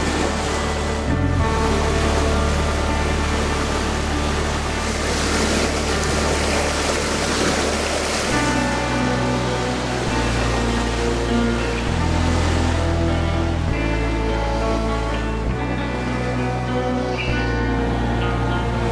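A sailboat motoring under engine across calm water, a steady continuous engine drone with water wash running throughout at fairly constant loudness, the low tone shifting slightly in pitch a few times.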